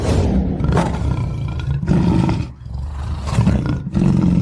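A deep, loud tiger growl rumbles in long repeated waves, each swell broken by a brief pause before the next.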